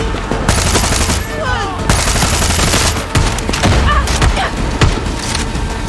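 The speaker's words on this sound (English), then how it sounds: "These guys have shotguns." Shotgun gunfire in the Far Cry 6 video game: repeated loud, sharp blasts and thuds come in quick succession over a dense, continuous stretch of combat noise.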